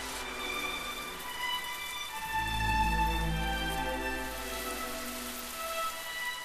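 Steady rain falls on the old stone paving of the courtyard at Gyeongbokgung palace, a continuous dense patter with a faint low rumble in the middle.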